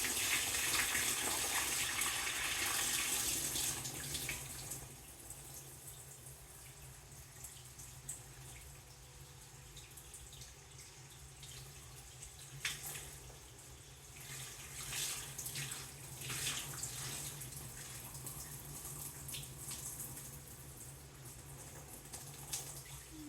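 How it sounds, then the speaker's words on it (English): Water being poured into a 37-gallon planted aquarium onto substrate: a loud gushing pour for the first few seconds, then a quieter steady trickle and splashing that continues with small surges, close by, with no voices. "we've poured 3 gallons of water from a convict tank in here, going in with another 3 gallons"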